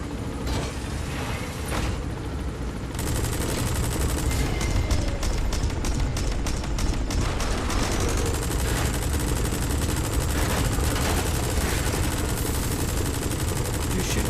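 Rapid video-game gunfire in Metal Gear Solid V rattles in dense repeated bursts at an ATV, loud and close, running nearly the whole time over a steady mechanical background.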